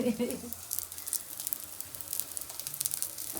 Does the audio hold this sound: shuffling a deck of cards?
no